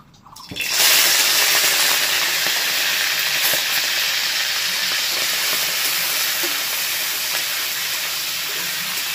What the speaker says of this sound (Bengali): যে চিংড়ি মাছগুলো পরিষ্কার করে ধুয়ে নিয়েছি, ওগুলোকে ভেজে নেবো